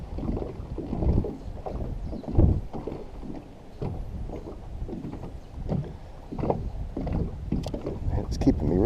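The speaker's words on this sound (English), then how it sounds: "That wind is getting on up there." Strong wind gusting across a lake while fishing for crappie from a bass boat, a steady low rumble of wind buffeting with water and hull noise throughout, loud and close, with occasional surges.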